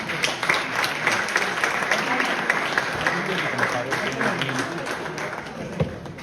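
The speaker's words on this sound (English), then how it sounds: "We should keep clapping for them." An audience at a university conference valedictory claps steadily and fairly close, sustained applause with a few sharper claps, and voices murmur underneath.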